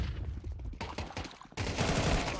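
Pistol gunfire in a Counter-Strike 2 crossfire, dense overlapping shots in clustered volleys growing louder and denser near the end.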